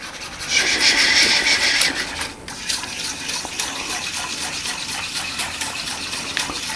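A whisk stirs protein pudding mix with cold water in a bowl, making a wet, rapid swishing and scraping that is loudest early on and then settles into a steadier churn, close up with no talking.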